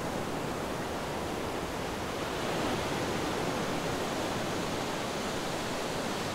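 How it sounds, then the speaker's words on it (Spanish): Ocean waves roll onto a wide sandy beach in Morocco, a steady, loud, continuous roar of surf with no breaks and no voices. "disfrutamos del estruendoso sonido de las olas."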